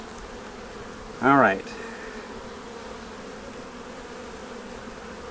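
Honey bees drone in a low, steady hum over a brood frame with capped and emerging brood, close and continuous, while a person briefly speaks over it.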